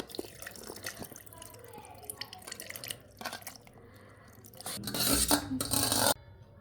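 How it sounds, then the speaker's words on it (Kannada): Water is poured from a vessel into a steel jar for a dry-fruit milkshake, giving a short, loud splashing gush near the end, after quiet clinks and drips. "ನೀರು ವೇಸ್ಟ್ ಮಾಡಬಾರ್ದು, ನೀರು ಹಾಕ್ಕೋಬೇಕು."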